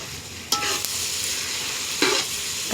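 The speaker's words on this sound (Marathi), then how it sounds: "कांदा परतून घेतोय." Onion being stir-fried in a pan for mutton biryani, a steady close sizzle with brief louder bursts of spatula stirring, no voices.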